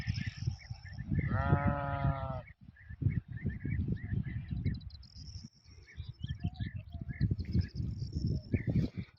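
Lamb or sheep bleating outdoors in Turkish hill pasture, one strong wavering bleat early on, followed by rustling and scattered movement noise with faint insects in the background.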